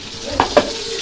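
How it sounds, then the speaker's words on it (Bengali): Fish sizzles in a frying pan, with two short, close spurts of spattering over a steady low background. "আর এটা হচ্ছে মাছ ভাজা।"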